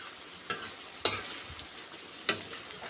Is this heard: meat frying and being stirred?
yes